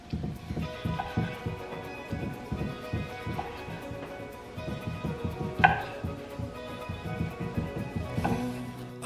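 A knife chops leftover pork roast into bite-sized slices on a board, a quick steady run of close, crisp cutting taps throughout, no voices.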